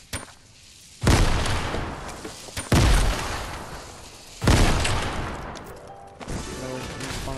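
Grenades thrown in the video game Fortnite burst in three loud, sharp booms spaced a couple of seconds apart, each followed by a rumbling decay, with fainter game sounds trailing at the end.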